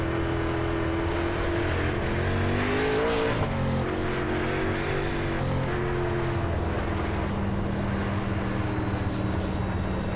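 Dirt late model race car engines roar around Knoxville Raceway in iRacing, a loud steady drone with shifting pitch as throttle rises and falls, several cars blending together without pause.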